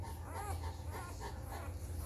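Newfoundland puppies in a nursing pileup give soft, faint whimpers and squeaks, a few small cries repeating over a steady low rumble of background noise.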